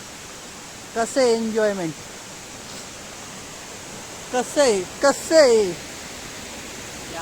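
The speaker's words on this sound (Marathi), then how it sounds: "हे बघा, हे बघा धबधबा धबधबा धबधबा." Steady roar of a waterfall at Khandi Point fills the background from start to finish, with people chatting loudly over it in short bursts.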